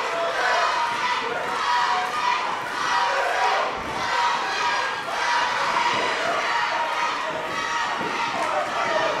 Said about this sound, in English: You can hear the crowd is absolutely deafening.